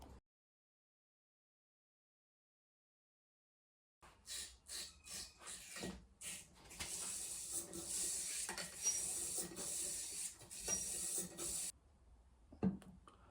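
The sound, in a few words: cleaning rod scrubbing inside an AR rifle barrel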